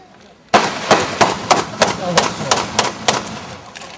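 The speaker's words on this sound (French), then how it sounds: "histoire de créer une diversion, des explosions" A rapid series of sharp diversion explosions during a hostage rescue demonstration at a defence and security careers fair, about ten in a row at a steady pace, loud and close, with voices mixed in.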